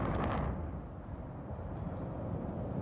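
Explosions at a Texas chemical plant sound as a heavy, distant boom rolling into a long low rumble that stays dense and loud for several seconds.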